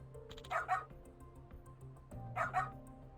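A dog in the video game Lost Judgment gives two short, close yipping barks with a whimpering edge, spaced about two seconds apart over a low background hum.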